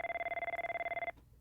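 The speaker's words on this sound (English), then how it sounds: "Ethan grabs his phone, then realizes it is ringing several cubicles over" An office telephone rings steadily several cubicles away in a high-rise, a continuous warbling electronic tone at moderate level that cuts off abruptly.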